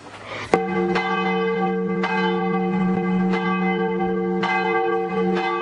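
A bell rings repeatedly at an uneven pace, each strike clear and resonant, its tone lingering and overlapping between strokes.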